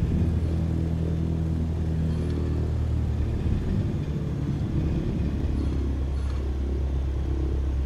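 A light aircraft engine rumbling steadily while taxiing in Microsoft Flight Simulator, a continuous low drone with a slight rise in power partway through and no voices over it.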